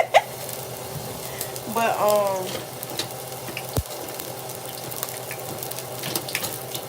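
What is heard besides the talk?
grease sizzling in an overheated pan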